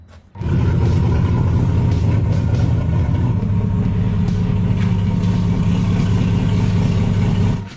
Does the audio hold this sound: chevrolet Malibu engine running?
yes